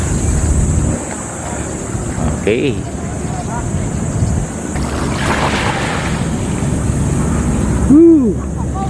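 Steady surf and gusty wind at a beachfront resort in Zambales, a continuous loud wash with wind buffeting the microphone throughout and a brief spoken word near the end.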